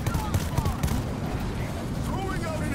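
Heavy gunfire from a big mounted gun in the zombie shooter World War Z, a dense stream of rapid shots with a sustained mechanical clatter running the whole time.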